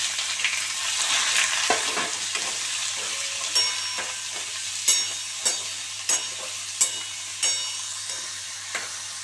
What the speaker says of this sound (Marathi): पनीर तेलामध्ये परतून घेऊ